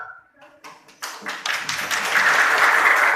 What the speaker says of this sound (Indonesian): Kasih aplaus terlebih dahulu.